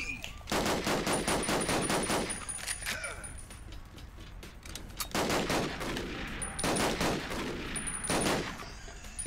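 Loud bursts of rapid automatic gunfire in the video game Duke Nukem, arriving in several long volleys of fast rhythmic shots separated by brief lulls filled with ongoing game noise.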